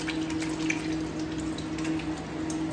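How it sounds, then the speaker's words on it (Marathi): Tap water runs steadily and close by while a country chicken gizzard is washed clean, a continuous even splashing rush with no pauses or voices. "हे बघा, आता धुवून घेतोय आपण साफ."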